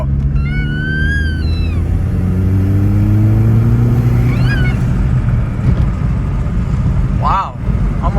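A Mk4 Jetta 1.8T turbo pulling hard from low in third gear, its loud engine drone climbing steadily in pitch, with thin whistling tones above and tire noise filling the cabin.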